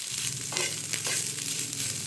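Black pepper powder and salt frying in a pan, a steady close sizzle with soft stirring scrapes running throughout, no voices.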